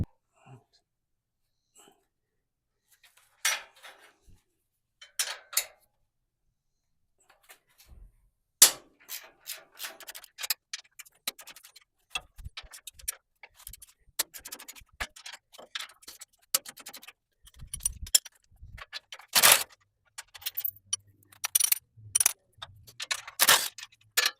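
Ratcheting and metallic clicking from a wrench working loose tight fasteners on a car's rear end chassis in a carport, starting quiet and sparse, then turning into dense, sharp ticking bursts close by.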